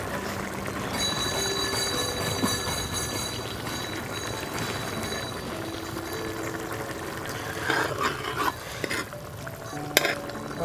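Kerala fish molee curry with capsicum is stirred gently in a pan, with a soft continuous simmering sizzle and occasional scraping and clinking of the spoon against the pan, and no talking.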